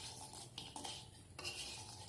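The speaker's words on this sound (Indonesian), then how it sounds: "Oke, baru kita aduk." Spoon stirring a chocolate mixture in a pot over low heat, with soft scraping and clinking against the pot in short irregular strokes, close by and moderately quiet.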